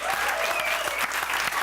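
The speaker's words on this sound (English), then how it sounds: "Big round of applause for Matching Jackets." Audience applause at a live comedy show, a steady burst of clapping from a crowd holding at an even level throughout.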